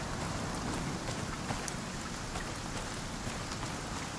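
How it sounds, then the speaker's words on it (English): Rain in the video game Icarus, a steady dense hiss of falling drops pattering on surfaces, constant and moderately quiet with occasional sharper drip ticks and no talking. "this rain sounds real"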